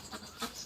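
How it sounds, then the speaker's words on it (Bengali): A goat bleats softly at close range, a short, faint nasal call of under a second in a quiet rural setting. "এই যে ছাগল"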